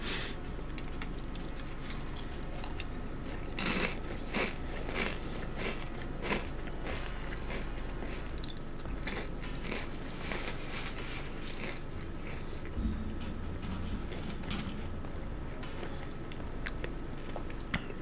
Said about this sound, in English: Sorry if I'm crunching in your ear.